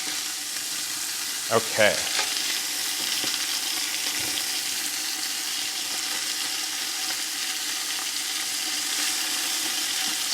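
Food browns on a Blackstone griddle with a steady, close hiss of sizzling throughout, interrupted by a short clatter of stirring near the start. A voice speaks a single brief word.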